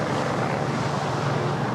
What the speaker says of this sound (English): We've got the helicopter circling.